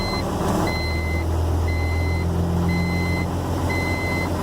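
A 1996 Volvo VE D12 diesel truck engine idles after a cold start with a low, steady rumble, and a regular series of high electronic beeps sounds over it.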